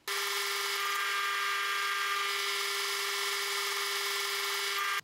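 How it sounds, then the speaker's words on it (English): A small power drill with a tiny 1.5 to 2 mm bit runs steadily at a high, even whine for about five seconds, starting and stopping sharply, with no voices. "I'm then going to drill a small hole in each corner."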